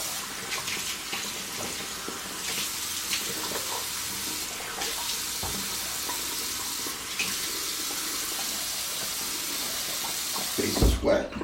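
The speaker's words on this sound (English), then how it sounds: "So I'm gonna wet my face." A bathroom sink tap runs steadily as water is splashed onto the face before a double-edge razor shave, a close, continuous hiss with brief splashes and a clatter at the end.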